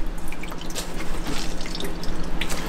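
Water wrung from a waterproof winter glove by a squeezing fist, a close continuous trickle of drips and splashes over a low steady hum, with no voices.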